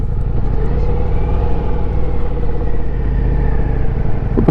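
A Ducati Diavel V4 motorcycle engine rumbling steadily at idle or low revs, loud and close with a deep throbbing pulse and no talk.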